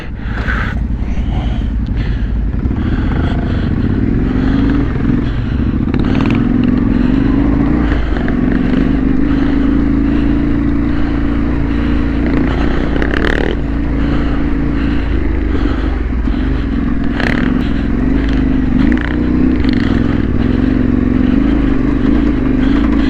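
On a dusty green-lane trail ride, a big trail motorcycle's engine runs loud and close, a continuous rumbling drone with gear and throttle changes and faint clatter from the rough track.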